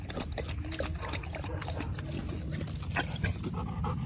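A thirsty dog laps water after playing ball, with quick repeated wet slurping and lapping close by at low volume over faint background noise.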